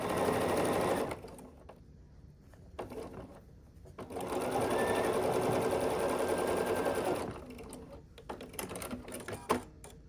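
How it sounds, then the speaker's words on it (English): A sewing machine stitches the two remaining seams of a scrappy sampler quilt block, running in two sustained bursts with a quieter gap between them, close and steady with no talking. "we're just going to assemble together and sew these 2 remaining seams"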